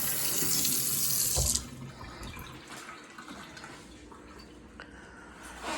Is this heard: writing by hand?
no